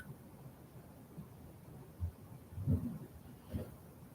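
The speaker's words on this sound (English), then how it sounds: "And there went some thunder." Faint, distant thunder from a Southern rainstorm rolls in as a couple of low, soft rumbles in the second half, barely rising above a steady background hiss.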